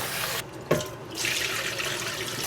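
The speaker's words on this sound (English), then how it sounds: "we're just gonna wash that about 3 times" Long grain white rice is being washed in water at a kitchen sink, with running tap water, sloshing and a brief splash heard up close and alone.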